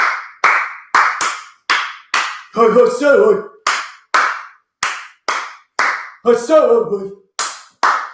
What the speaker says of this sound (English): good to put a clap in there